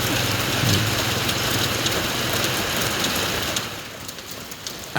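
Morning rain falls in the misty mountains of Laos as a steady, close hiss that eases toward the end, with a low engine-like rumble underneath and a few faint knocks.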